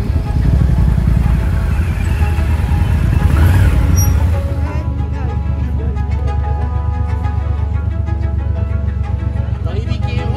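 A motorcycle engine running close by at a charity ride for visually impaired passengers, a loud rumble that eases after a few seconds into a steady idle, with people talking over it.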